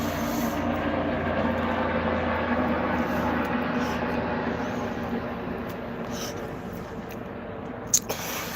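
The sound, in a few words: two helicopters flying overhead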